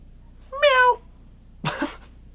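A cat gives one short, rising-then-falling meow at a national park trail at Petrified Forest, followed after a pause by a brief breathy burst.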